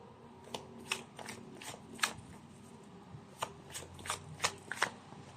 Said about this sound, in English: this time I'll be pulling up 3 cards